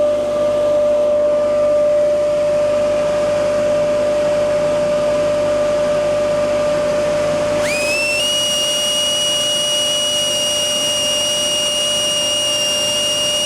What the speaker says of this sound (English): I'm going to test the sound meter for my dust collector system.